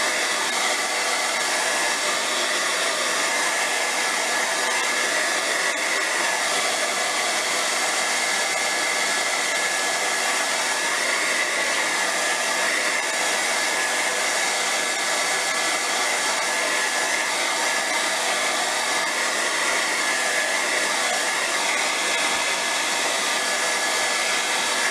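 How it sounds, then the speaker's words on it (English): A hair dryer blows steadily and loudly for the whole stretch, a constant whooshing roar with no breaks and no voices. "I'm going to grab my hairdryer. I'm going to be noisy for a few seconds."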